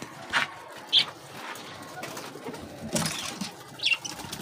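Pet doves nearby flap their wings in short bursts and give soft coos while eating grains of rice, with a few brief wingbeat flurries spaced across a quiet room.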